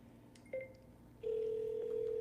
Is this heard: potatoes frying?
no